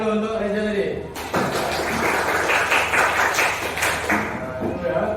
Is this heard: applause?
yes